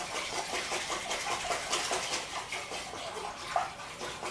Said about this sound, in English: So, just whisk that until it's homogeneous.